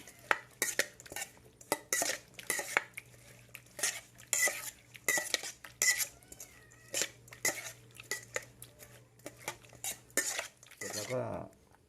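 Onions tossed and mixed into a Thai spicy salad dressing, with repeated clinks and scrapes of a utensil against a bowl in an irregular rhythm, close and moderately loud, with a brief rising squeak near the end.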